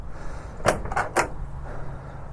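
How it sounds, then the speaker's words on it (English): The door of a 1965 Chevrolet Custom C20 truck shuts three times in quick succession, each a solid, close thud with a brief latch click, against quiet background hiss. "the door just shuts so solid"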